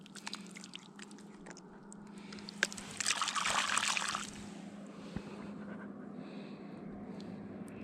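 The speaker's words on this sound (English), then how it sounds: "That's the sound of a steamer clam." A steamer clam on a beach gives a short, faint wet squirt and trickle of water, a brief hiss of spray heard close amid quiet outdoor ambience with a soft background hum.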